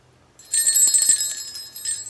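A small silver bell on a handmade Christmas wand jingles in a bright, high shimmer that starts after a brief quiet moment and rings on steadily with slight fading, close and alone.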